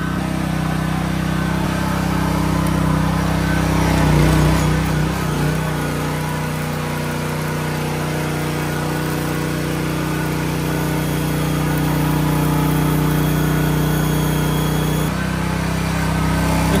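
A PK2300i gasoline welding generator's engine runs loud and close, a steady droning hum with a slight waver partway through and no talk over it.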